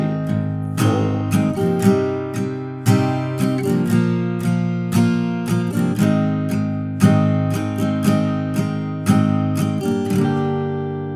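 Guitar chords strummed in a steady rhythm, each chord ringing out and sustaining before the next, played clearly with no voices.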